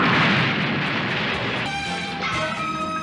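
A loud, booming explosion in the Mobile Suit Gundam anime roars for more than a second, then gives way to ringing tonal music with a few softer thuds beneath.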